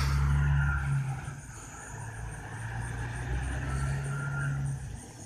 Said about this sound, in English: I think it's a semi-truck.